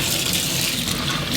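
Part of a Gtech AirRam vacuum rinsed under running water, a steady close gushing splash with no talking.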